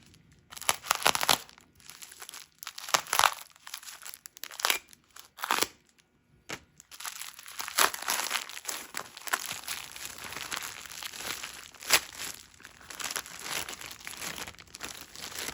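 Replacement recall parts for a Grizzly lathe are unwrapped from plastic packaging. Crinkling and rustling come first in short separate bursts, then turn into steady close crackling handling of the plastic bag.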